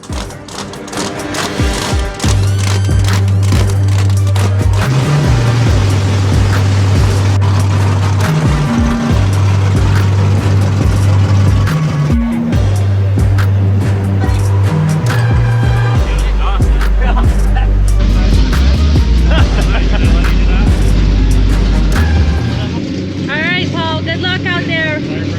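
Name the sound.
1,000 horsepower Ultra4 4400 class off-road race car engine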